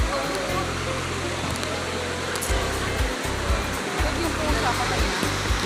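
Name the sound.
rushing water at Baliti lake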